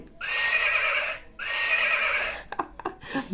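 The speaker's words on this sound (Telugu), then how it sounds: "ఇది గుర్రం అంట చూడండి" A rabbit-shaped toy phone plays a recorded horse neigh twice in a row, each a loud, shrill whinny, followed by a few brief clicks and rustles.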